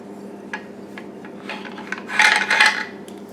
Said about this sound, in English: You just pull the charging handle to the back and then up, out.